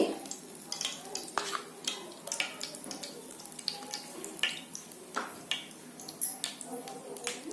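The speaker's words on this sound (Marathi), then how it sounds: "आणि रवा भाजून घेते. रवा चांगला फ्राय करून घ्यायचा." Semolina roasts in ghee in a pan for a pineapple sheera, with continuous close scraping and stirring strokes over a light sizzle, the utensil rasping against the pan in an uneven rhythm.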